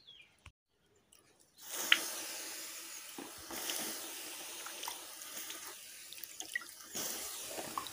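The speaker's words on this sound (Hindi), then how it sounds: "ये रहा पानी, थोड़ा सा डाल देती हूँ, नहीं तो फिर आग बहुत जल रहा है।" Water poured onto a burning wood cooking fire in a village kitchen: a brief splash, then a sustained sizzling hiss with crackles and spurts that rises and falls, fairly close, without talk.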